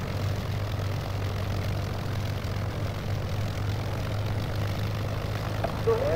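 Propeller warplane engines drone steadily throughout an air battle in the video game Toska, a continuous low hum with a faint higher whine near the end.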